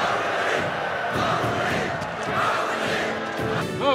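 A large crowd cheers and roars steadily from a scene in the Indian epic film Baahubali: The Beginning, a dense continuous swell of voices that rises again near the end.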